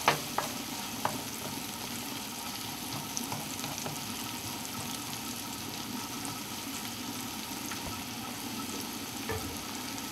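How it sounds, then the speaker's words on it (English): A pot of rice on a stovetop being stirred as it starts to boil, with a steady sizzling, bubbling hiss throughout and a few light scraping clicks from the utensil against the pot, close and alone. "I can give my rice a little bit of a stir. So I'm starting to get a boil."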